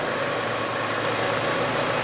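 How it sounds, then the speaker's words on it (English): A Nissan Micra K11 engine running roughly after a throttle body replacement, a steady close mechanical drone with no clear rise in pitch. "This is going to start revving."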